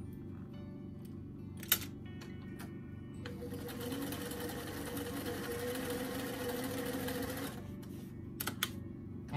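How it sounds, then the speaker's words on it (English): A sewing machine stitches the shoulder seam of a fuzzy doll coat, running steadily for about four seconds at close range, with a few clicks and handling taps before and after. "go ahead and sew that second shoulder seam"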